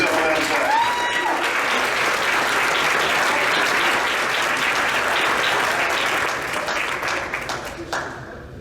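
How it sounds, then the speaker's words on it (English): A banquet audience at an athletics awards event applauds steadily, a dense wash of clapping that holds for several seconds and tapers off near the end, with faint voices mixed in. "So give yourself a round of applause."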